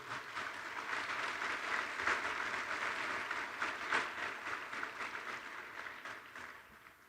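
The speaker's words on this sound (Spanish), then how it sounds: "De verdad, un aplauso para usted." An audience applauds a government minister at a Colombian housing and construction forum, with steady, even clapping that carries on for about seven seconds and tapers slightly at the end.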